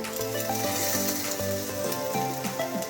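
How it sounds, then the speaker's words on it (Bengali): Onion and tomato fry in a pan for poha, giving a steady, close sizzle throughout with a faint tonal hum underneath and no talking. "পেঁয়াজটাকে ফ্রাই করার পর টমেটো অ্যাড করবে"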